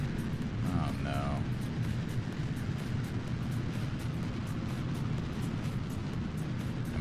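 A lopsided, wobbly rocket in Kerbal Space Program roars steadily through a poor takeoff, a dense, continuous rumbling thrust heard under someone talking.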